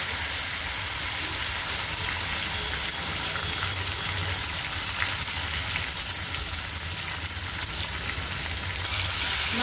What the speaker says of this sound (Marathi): मसाला एकदम छान परतून घ्यायचा